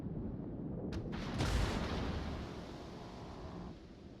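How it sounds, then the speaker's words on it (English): A battleship fires a heavy gun salvo in the naval video game World of Warships, a deep booming blast that swells and then rolls away into a long low rumble. "Now that's a nice salvo at broadside Yamato."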